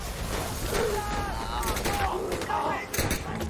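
Bursts of gunfire from a Chinese-Japanese war film set in Shanghai, with Japanese soldiers shooting; sharp broadband cracks come in rapid clusters over continuous battle noise, with voices and tonal cries mixed in.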